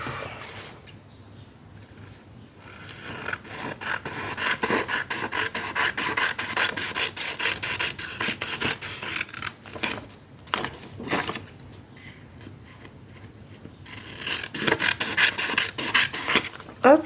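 Scissors snip steadily through glossy magazine paper for a collage, a long stretch of close, dry rasping and crinkling cuts with small pauses and a few louder clips near the end.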